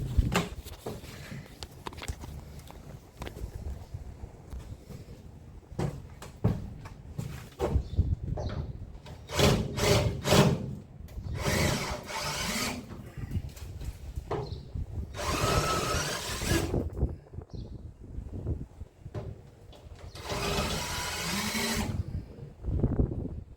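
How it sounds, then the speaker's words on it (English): A power drill bores out rivets on a school bus body during a skoolie conversion, running in repeated short and longer bursts with pauses between, fairly close and loud. "So I'm going to go ahead and drill that one and that one out."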